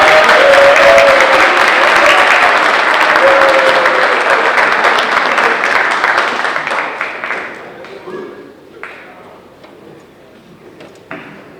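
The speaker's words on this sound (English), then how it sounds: "Give a round of applause for Diego Carrillo." Applause at a construction signing day ceremony, a loud, dense burst of clapping that gradually thins out and fades, leaving a few scattered claps and knocks at the end.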